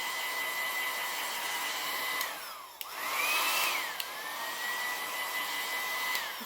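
A heat tool on low heat dries a damp craft transfer, blowing a steady whirring hum that dips briefly as the motor slows, then rises and holds at a constant pitch, close and alone.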